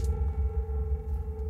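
Creepy, spooky synth effects from a Splice sample pack, used as an outro in a beat: steady eerie tones layered over a droning low end, sustained and unbroken throughout without any voices.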